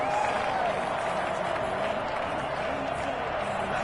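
Stadium crowd noise in an American football video game, a steady, loud roar of cheering and applause as the home crowd drowns out the offense near the goal line.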